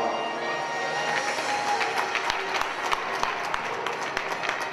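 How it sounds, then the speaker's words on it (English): An arena crowd at a junior hockey game applauds the Essex 73's as Great Lakes champions; a continuous wash of clapping carries on throughout with a few sharper claps standing out, heard from a distance in a large reverberant space. "Please give them a round of applause."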